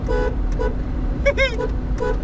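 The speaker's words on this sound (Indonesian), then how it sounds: "Tes klakson. Coba klakson." An old Toyota Kijang's horn toots several times in short, nasal blasts, with a voice talking briefly in between over engine rumble.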